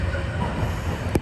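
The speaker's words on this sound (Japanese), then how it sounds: "列車は生駒トンネルを高速で駆け抜けていきます" A Kintetsu train bound for Cosmosquare runs at speed through the Ikoma Tunnel, giving a steady, dense rumble and roar of wheels on rail, close and loud throughout, with a brief sharper burst near the end.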